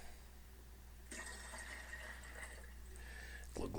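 Prune juice poured from a container into a cup, giving a steady liquid glugging and splashing for a few seconds that ends with a brief clatter, fairly quiet against a low hum.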